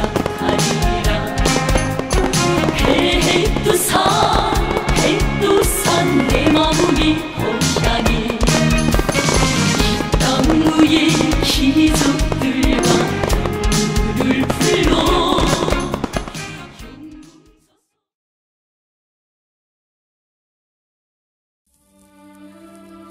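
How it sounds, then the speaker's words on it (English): Loud, dense bursts of crackling fireworks at a midnight celebration in North Korea, overlapping with music for most of the stretch, then abrupt silence before a faint tail of sound. "when the fireworks begin."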